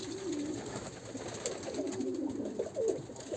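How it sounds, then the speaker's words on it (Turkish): Pigeons coo softly in a low, rolling murmur, a few birds close by in a coop with young, steady and unaccompanied by talk. "burada da Miro kuşlarımız var"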